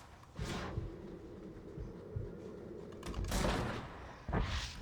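Buffalo rifle shots in the Red Dead Redemption video game, three loud booming blasts spaced a couple of seconds apart, each with a rumbling outdoor tail.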